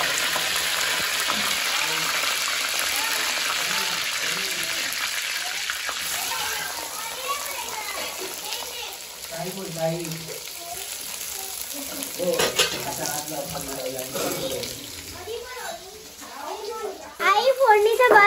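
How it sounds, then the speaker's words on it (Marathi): Phodnicha bhaat, tempered rice, sizzles and crackles in a pan while being stirred, with scraping strokes of the spoon and children's voices chattering over the steady frying. "आई फोडणीचा भात बनवते."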